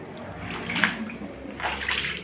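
Floodwater in a flooded room sloshes and splashes with soft watery movement, moderately close, set against a faint steady background.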